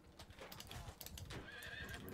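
Video game horse neighing over clip-clop hooves, faint and a little processed, with no talk.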